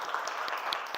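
Classroom applause in a school lesson, a short burst of scattered hand claps from students, fairly quiet and uneven.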